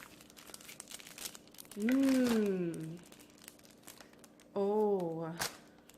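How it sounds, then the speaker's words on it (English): Plastic wrapping is torn and crinkled off a 12-piece goth makeup brush set, giving scattered close crackles and crunches, with a voice speaking in two short bursts over them. "Gonna kill this wrapping. Rip it all off."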